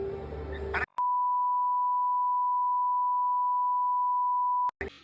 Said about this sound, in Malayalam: ഈ ബീപ് ശബ്ദം കണ്ടുപിടിച്ചിട്ടില്ലായിരുന്നെങ്കിൽ ഈ സർഗസങ്കീർത്തനം എൻ്റെ ചാനലിലൂടെയും മാലോകരെ കേൾപ്പിക്കേണ്ടി വരുമായിരുന്നു